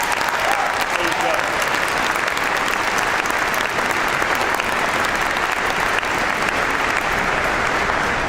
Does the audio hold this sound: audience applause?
yes